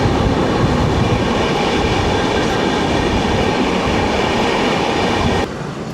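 The Gitanjali Express runs along Central Railway tracks through Mumbai near Parel and Dadar in the early morning, a steady loud rumble and rattle of wheels and carriages heard from on board, with no talking.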